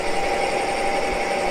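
A sharp drill bit cuts metal steadily on an engine lathe while machining a camlock chuck back plate, giving a continuous, even whirring hum with a faint grinding edge, close and unbroken.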